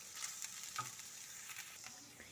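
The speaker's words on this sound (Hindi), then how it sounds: "1 से 2 मिनट मैंने चिकन को जो है वो अच्छी तरीके से भून लिया।" Boiled chicken fries in hot oil in a pan, giving a steady soft sizzle with light stirring clatter, close and alone with no talk.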